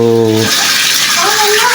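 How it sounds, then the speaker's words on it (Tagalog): Water from a hot and cold shower fed by an individual heater pours in a steady close hiss after a brief tonal hum at the start. "So, gumana na yung shower."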